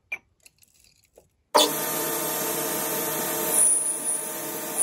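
Quiet small taps give way to a metal lathe suddenly spinning up as a bronze lighter cap is parted off, a steady close machine whine and hum with a faint high squeal from the cut near the end.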